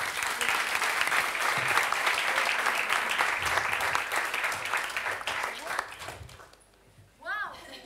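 An audience at a panel discussion breaks into sustained loud applause with a few whoops, holding strong for several seconds before fading away, then a voice begins speaking.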